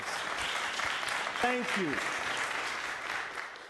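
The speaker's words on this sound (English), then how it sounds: "they should be applauded with real applause" Audience applause at a Board of Supervisors meeting, a steady wash of clapping throughout, with a voice speaking briefly midway.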